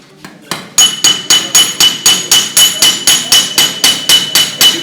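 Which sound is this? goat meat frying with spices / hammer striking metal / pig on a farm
hammer striking metal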